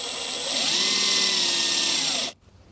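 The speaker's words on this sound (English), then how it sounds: "I'm going to drill a pilot hole" A cordless power drill whines steadily at close range, boring a pilot hole for mounting a battery monitor in a campervan, its pitch dipping slightly under load before it stops abruptly.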